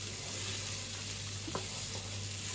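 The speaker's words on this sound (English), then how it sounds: "so I'm softening off the onions" Onions softening in a frying pan give a low, steady hiss with faint scattered crackles and one small clink, quiet and unbroken, with no voices.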